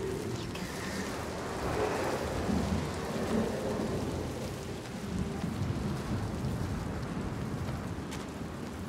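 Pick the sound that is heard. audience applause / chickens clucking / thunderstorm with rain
thunderstorm with rain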